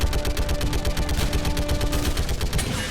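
Heavy machine gun fire from the video game Mass Effect 3 rattles in a dense, continuous stream of rapid shots, loud and close throughout with no pauses.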